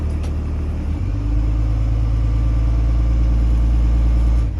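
A school bus engine held in its lowest gear with the parking brake set revs up from idle into a loud, sustained low drone that holds steady before easing off, with no talk.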